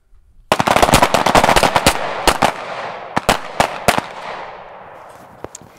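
Pistol fired while the shooter moves to the left during a shooting drill, giving a rapid string of sharp, loud, close reports followed by several more spaced cracks and a fading echo.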